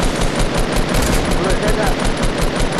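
Rapid automatic gunfire rattles in a shooter video game, loud and continuous bursts for nearly three seconds, with voices talking over the shots.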